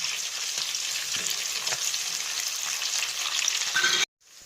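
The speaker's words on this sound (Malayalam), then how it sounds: "പച്ചമുളകും കൂടി ഒന്ന് വഴറ്റിയെടുക്കുക." Garlic and green chillies fry in hot oil for a Kerala-style fish pickle, a steady close sizzle with faint stirring that runs alone before cutting off abruptly near the end.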